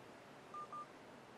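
A Samsung Intercept phone placing a call through its voice dialer sounds two short, faint dial tones in quick succession over a quiet background hiss.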